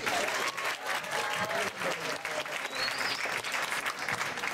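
A poetry night crowd claps steadily and fairly close, dense applause continuing without a break.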